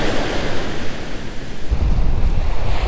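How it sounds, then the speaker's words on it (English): Ocean waves and surf breaking on an Outer Banks beach, a loud continuous wash with heavy wind rumble on the microphone that swells as another wave rolls in. "Waves are always so crazy."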